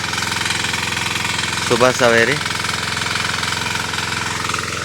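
A tractor engine chugs steadily in a farm field during morning sowing and ploughing, a rhythmic mid-pitched knocking idle that runs throughout while someone briefly speaks over it.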